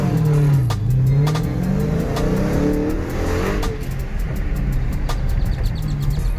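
A street car with turbo power revs hard and takes off while launch RPM is being tested, a loud nearby engine whose pitch climbs and dips through the pull, then holds a steady roar.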